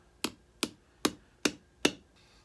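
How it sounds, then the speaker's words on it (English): Five light, evenly spaced taps from a small hammer set a pin into the handle of a Grohmann No 4 survival knife kit. Each tap is crisp and close and decays quickly in a quiet room. "I'll put in the first one and tap it in a bit."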